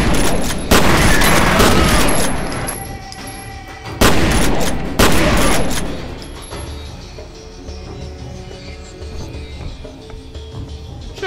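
Combat shotgun blasts in the shooter game F.E.A.R., two heavy booming bursts close together near the start and another pair around the middle, followed by fading debris and ambient rumble, loud and without talk.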